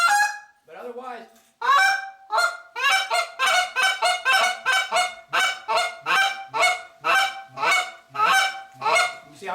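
A handheld goose call blown by mouth with finger control, producing a rapid series of loud, close honks and clucks in an uneven rhythm, closely imitating a goose.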